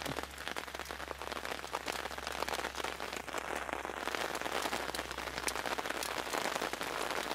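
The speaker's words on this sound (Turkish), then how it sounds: "Evet yağmur hızlanıyor" Steady, dense rain pours down at a lake, a continuous hiss of drops pattering on surfaces with no voices.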